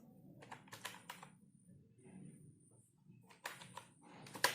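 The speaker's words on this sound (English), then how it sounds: "So to create database we will write command create" A database command is typed on a computer keyboard in short clusters of soft, close key clicks, broken by brief pauses and ending with a firmer keystroke.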